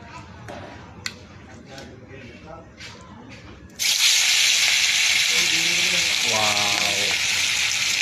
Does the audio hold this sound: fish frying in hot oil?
yes